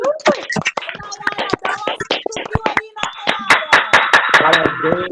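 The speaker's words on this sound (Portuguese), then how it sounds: "Uma salva de palmas aí para" A church congregation applauds during a service, with dense, close hand clapping that swells into steady, louder rhythmic claps toward the end.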